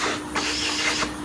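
A shop vacuum hoses dust out of the bench dog holes on a woodworking bench, a steady airy hiss with brief louder sucking surges as the nozzle moves from hole to hole.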